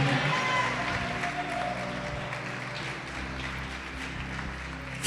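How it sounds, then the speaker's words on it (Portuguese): Church congregation applauding and praising during a worship service, a steady broad wash of clapping mixed with voices and low organ or band tones underneath, continuous and moderately loud throughout. "Pode aplaudir, glorificar."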